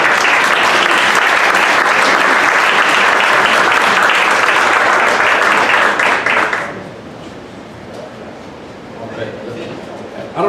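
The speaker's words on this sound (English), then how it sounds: "let's give a quick round of applause" Round of applause from a pitch-event audience at a Dallas startup meetup, loud dense clapping for about six seconds that cuts off abruptly and fades into quieter room murmur.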